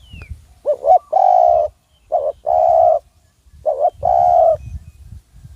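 A dove coos in repeated phrases, each a short rising note followed by a longer hollow hoot, clear and fairly close with quiet pauses between.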